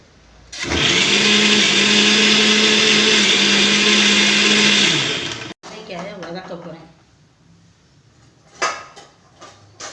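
A mixer grinder coarsely grinding shallots runs loudly and steadily for about five seconds, then cuts off, followed by faint clattering and quiet handling noises.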